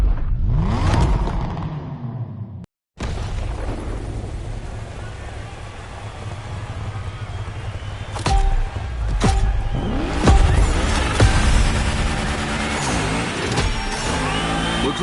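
Car engines rev and tires squeal in a Gymkhana MotoFest driving game, a continuous close roar with surging accelerations and sharp skids, with a brief dropout near the start.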